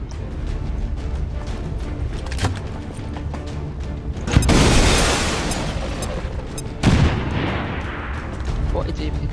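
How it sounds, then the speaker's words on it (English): Grenade explosions in the video game XCOM 2, two loud booming blasts with rumbling decay over background game sounds and gunfire-like pops. "Grenade."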